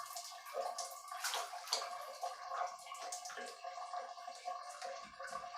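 Water from a shower pours and splashes steadily over hair as it is soaked before shampooing, a close, irregular spattering and gurgling with no talking.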